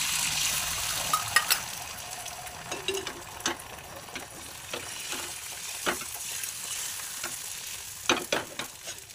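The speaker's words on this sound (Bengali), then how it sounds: "এবার তাটার মধ্যে আমি ডিম দিয়ে দেবো" Egg frying in a hot pan for an egg roll, a steady close sizzle with occasional sharp clinks and scrapes of a utensil against the pan, no voices.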